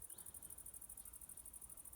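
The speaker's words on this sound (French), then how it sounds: "comme un bruit de grillon." A cricket chirps outdoors on a sunny, warm late-September day, a faint, steady, rapid pulsing trill that carries on evenly and alone through a quiet background.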